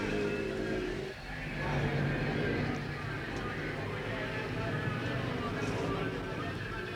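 Racing cars at a 1972 Tasman Series race, engines droning steadily at a distance under continuous commentary.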